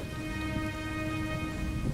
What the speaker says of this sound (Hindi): अरे बेटी, देखो बारिश अच्छी हो गई है।